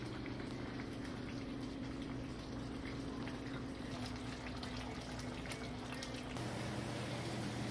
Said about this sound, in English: So for 45 minutes, it's going to be boiling like this until the water evaporates.